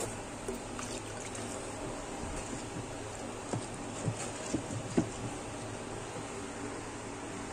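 Water poured into mashed cooked dal for katli, a soft faint trickle and patter with a few small splashes, close by and without any talk.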